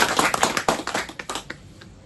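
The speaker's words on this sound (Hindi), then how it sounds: "उसके लिए ताली बजाओ" Audience clapping at a retirement farewell for a chief education officer in Budgam, a scattered run of distinct claps that thins out and fades toward the end, moderately close, with no voices.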